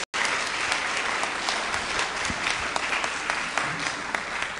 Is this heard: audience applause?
yes